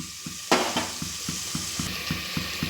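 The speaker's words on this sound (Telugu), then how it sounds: "ఈ పేస్ట్ అనేది పచ్చివాసన లేకోకుండా బాగా వేగాలండి, మగ్గాల" An onion-tomato spice paste sizzles in a pan while a spoon stirs it in a steady rhythm of soft scrapes and clicks. One louder clack of utensil on pan comes early.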